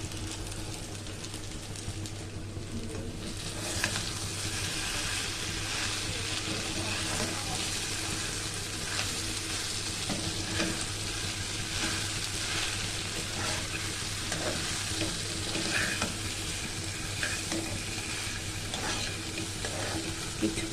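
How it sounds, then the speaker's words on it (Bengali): Potatoes and soybean chunks are stirred into a spice masala in a pan and fry with a steady, loud sizzle, broken by scraping stirs throughout. "এবার আলু আর সয়াবিন ভাজাটা দিয়ে দিলাম"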